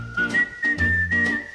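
A person whistles a melody in a song, a clear, steady whistled tone held in short phrases over a rhythmic low accompaniment.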